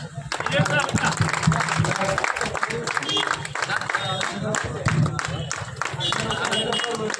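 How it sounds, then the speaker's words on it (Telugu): A crowd claps steadily at an outdoor birthday celebration for a political leader in a town centre, the applause dense and continuous under a busy murmur of voices and ambient crowd noise. "claps claps"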